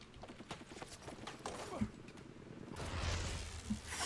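A horse gallops in the video game Battlefield 1, rapid hoof clip-clops with mechanical game noise and a burst of wind or rushing sound midway, fairly faint, while someone talks excitedly over it.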